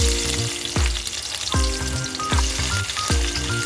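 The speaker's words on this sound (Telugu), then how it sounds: "ఫస్ట్ ఉల్లిపాయలు, పచ్చిమిర్చి వేయించుకుందాం." Onions and green chilies frying in hot oil, giving a loud, steady sizzle broken by regular scraping strokes of a stirring spoon about every three-quarters of a second.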